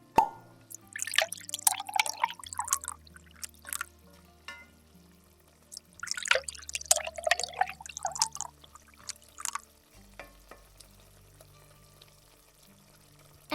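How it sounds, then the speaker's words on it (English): Wine and beef stock poured into a cooking pot in two separate bursts of gurgling liquid and plops, close and fairly soft, with quiet pauses between them. "Now let's add our wine and our beef stock."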